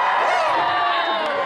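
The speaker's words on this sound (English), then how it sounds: "that's a cheering moment!" School assembly crowd of middle school students cheering together, a loud dense burst of shouts and whoops from many voices, close and sustained.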